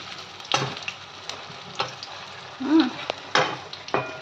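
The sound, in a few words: lentil paste and mustard paste frying in oil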